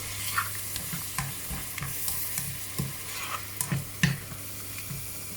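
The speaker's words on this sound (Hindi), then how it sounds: "अब हम इसको फिर 2 से 3 मिनट बस फ्राई करेंगे।" Onions fry over medium-high heat for a chicken malai handi, a low sizzle under regular, close scraping strokes of a spoon stirring the pan, roughly one every half second, fairly quiet overall.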